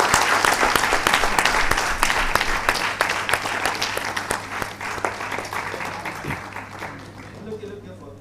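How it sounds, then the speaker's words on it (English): Sustained applause from a large audience at a panel discussion on India's Olympic ambitions fills the room, steady and loud throughout with a constant low hum underneath, fading slightly toward the end. "Please give her a big round of applause."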